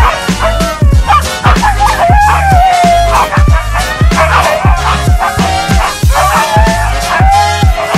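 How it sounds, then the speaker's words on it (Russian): Husky dogs barking in a loud, steady run of sharp, close barks, with rhythmic thumping accompaniment underneath and a talking-dog style voice setting. "Давайте покажем человеку-деду, какие мы у него невоспитанные, и начнем гавкать и выть."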